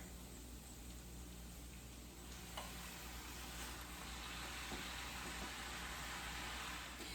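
Thin-sliced fatty beef sizzling in avocado oil in a hot pan, a steady close crackle and hiss that holds evenly throughout with a few faint clicks.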